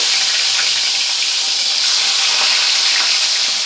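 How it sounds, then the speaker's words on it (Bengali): Rohu fish pieces frying in hot oil, a dense continuous sizzle, loud and close, with no voices over it. "দেখুন তেলটা গরম হয়ে গেছে, এবার মাছগুলো আমি এক এক করে দিয়ে দেব।"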